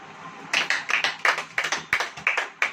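A church congregation claps hands during a sermon, a series of a dozen or so distinct, fairly rhythmic claps starting after a brief quiet moment, moderately close and without speech over them.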